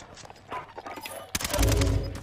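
Gunfire in the Call of Duty Warzone battle royale game, a scatter of quieter shots followed by a louder, dense burst of rapid firing toward the end.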